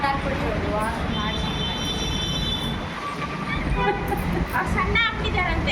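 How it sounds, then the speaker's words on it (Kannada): Metro train ride in Bengaluru, continuous rumble of the carriage with rising and falling motor whine tones and brief wheel squeals, close, with people talking over it. "ಮೆಟ್ರೋನಲ್ಲಿ ಹೋಗ್ತಾ ಇದ್ದೀವಿ"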